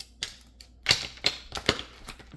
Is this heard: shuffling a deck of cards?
yes